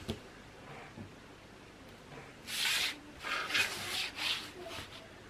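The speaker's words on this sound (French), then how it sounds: "Et je découpe le cadre." Scissors or a craft knife cutting a paper frame for a handmade tunnel album, heard as several soft scraping strokes in quick succession, close and fairly quiet, with no talking.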